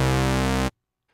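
Synthesizer tape strings patch built from slightly detuned sawtooth oscillators holds one loud, buzzy, harmonically rich sustained tone with a gentle beating wobble, then cuts off abruptly into silence.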